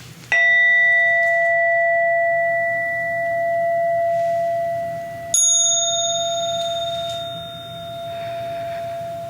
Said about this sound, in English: can we ring the bell for that?